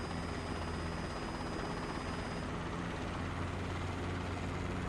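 Inside a video game, a helicopter flies with a steady, loud rotor and engine drone that holds constant throughout.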